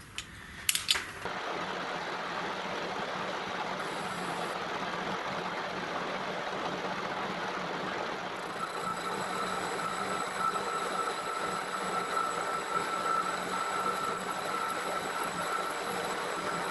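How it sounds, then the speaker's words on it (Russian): A steady metallic grinding hum from a lathe parting off a metal ring with a parting tool runs continuously, with a thin high whine and a couple of knocks at the start. "отрезным резечком отрезаю"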